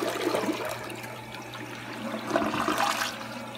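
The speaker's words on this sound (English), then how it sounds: "I'm gonna go ahead and give it a good flush." A toilet flushes after being cleaned with Fabuloso, a steady close rushing of water swirling through the bowl for the whole stretch, swelling slightly near the end, with no talking.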